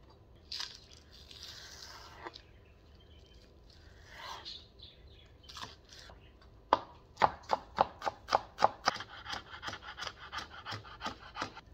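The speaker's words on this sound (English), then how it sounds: "So that's 1 green onion chopped." A green onion chopped on a cutting board with a knife, first a few scattered cuts, then a quick steady run of crisp close chops that fades into softer taps, with no talking.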